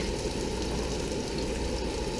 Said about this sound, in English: I'm going to first add my carrots. You can hear my nice little sizzle there.